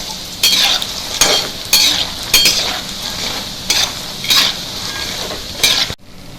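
Makhana (fox nuts) roast in a pan for a Janmashtami panch mewa paag, a spoon scraping and stirring in a few loud, rhythmic strokes over a steady dry sizzle, close up, until it cuts off abruptly near the end.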